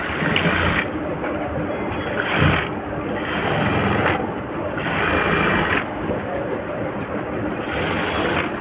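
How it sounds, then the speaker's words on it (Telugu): Sewing machine stitching the final seam of a blouse, a continuous dense mechanical whir with rhythmic surges roughly every second and a half, fairly loud and close. "ఇప్పుడు నేను లాస్ట్ ఇంకొక స్టిచ్ అయితే వేసేసుకుంటున్నాను ఇక ఫైనల్గా ఈ స్టిచ్ వేస్తే మనకి బ్లౌజ్ అయితే కంప్లీట్ అయిపోయినట్టే"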